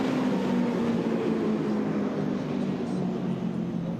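Pontoon boat engine exhaust at a powerboat shootout event, a loud, continuous broadband roar that holds steady and close throughout with no pauses.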